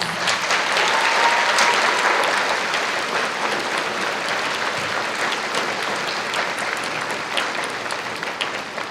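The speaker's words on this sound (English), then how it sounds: "please give these outstanding Northern Cambria High School students a huge round of applause" A large audience at a high school graduation ceremony applauds the graduating Northern Cambria High School students, a dense, sustained round of clapping that stays loud and steady throughout with no voices standing out.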